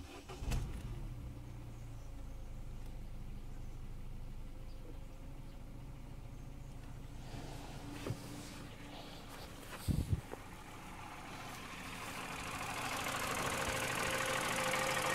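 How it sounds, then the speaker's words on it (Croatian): A Peugeot 308 engine idles steadily after a spark plug change, a low continuous running hum with a couple of brief clunks near the middle and a rising broadband hiss toward the end. "Auto radi, normalno pali."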